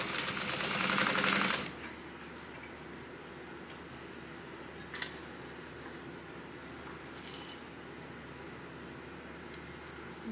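A sewing machine bastes fabric with a narrow 1/8 inch seam allowance, one short loud burst of rapid stitching, then quiet with a few faint clicks and handling sounds.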